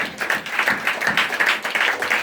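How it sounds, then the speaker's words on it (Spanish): Worshippers at an evangelical service clap for the Lord, a brief, lively burst of many hands throughout, fairly close and even in loudness. "dale palmas al Señor"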